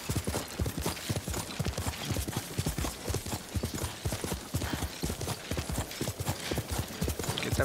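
A horse gallops in the video game Ghost of Tsushima, its hooves pounding in a fast, steady, loud rhythm throughout, close up over a dense background of game sound.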